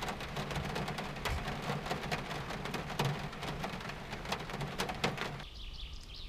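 Steady rain falling outdoors in a forest clearing near an old narrow-gauge railway repair workshop, a dense constant hiss at moderate level that thins out near the end, with faint bird calls.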